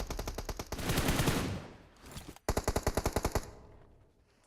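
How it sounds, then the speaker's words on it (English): Automatic gunfire in the mobile game PUBG Mobile during a competitive esports match: a loud burst of rapid shots, a brief gap, then a second fast volley of evenly spaced cracks, with a single shot at the end. "Good shots over towards Twisted Minds."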